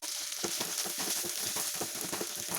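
Garlic and curry leaves sauté in hot oil for tamarind rice, a steady close sizzle with a few crackling pops and light stirring scrapes, no voices.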